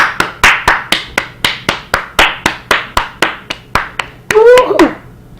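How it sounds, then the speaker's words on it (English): A person claps their hands in a steady, even series of about fourteen sharp, close, loud claps. A short burst of whooping from outside follows near the end. "Now guys, that sound was me clapping like this."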